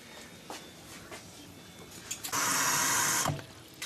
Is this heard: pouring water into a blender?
yes